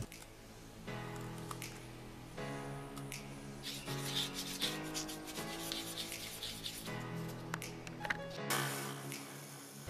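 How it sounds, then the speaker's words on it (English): A sharp chisel pares a small wooden stub left from the lathe while a mini dagger is being made, giving rough rubbing, scraping strokes that repeat in bursts of about a second, close and fairly loud. "Then I cleaned off that little stub from the lathe with a nice sharp chisel."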